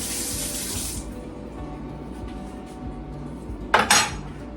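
A metal potato masher is rinsed under a running kitchen tap as water pours steadily into the sink. A sharp clatter of metal against the basin comes near the end.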